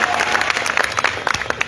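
A crowd at a political rally in Hajipur breaks into a brief round of applause, a dense burst of clapping that turns more scattered toward the end, with a few sharper individual claps and some crowd noise.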